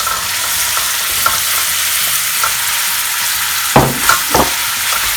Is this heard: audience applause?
no